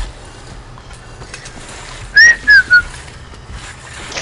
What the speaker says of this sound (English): That is the loudest whistling I think I've ever done.